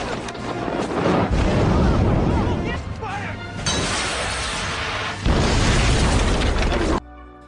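In a prison action film, inmates blow up an office. The blast is a loud, sustained roar with shattering debris that swells, drops, then bursts again before cutting off abruptly.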